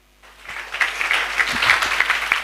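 An audience at an inspirational talk and Q&A session breaks into applause for a member who answered a question; clapping starts after a short silence, builds quickly and stays dense and lively throughout.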